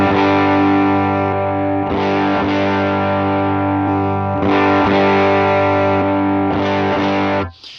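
Electric guitar played through an amp with HX Stomp effects off and then switched on, sustained distorted chords ringing loud and steady with a few re-strikes, ending in a sudden cutoff; no talking.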